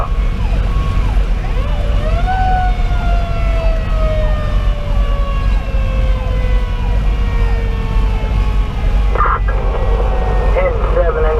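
Fire engine siren wailing up and down as the truck responds to a barn fire, loud and near over steady road and engine rumble, with a brief burst of air horn near the end.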